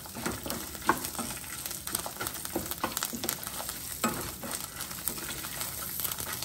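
Sesame seeds crackle and sizzle in a hot pan just after the stove is switched off, a quiet, continuous patter with small popping bursts throughout.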